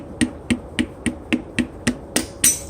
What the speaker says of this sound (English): you'll hear the rings as they seat